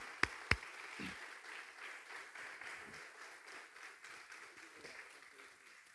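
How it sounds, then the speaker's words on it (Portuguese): Scattered applause from a modest church congregation, steady and fairly soft, opening with a couple of sharp, distinct claps. "Vamos aplaudir ao Senhor."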